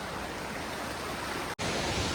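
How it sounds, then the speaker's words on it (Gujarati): The Sajla waterfall and river pour in a constant hiss of falling and flowing water, steady and fairly loud, broken by one very brief dropout near the end. "ઓર બહુ મસ્ત એક વોટરફોલ છે, તમે જોવો છો."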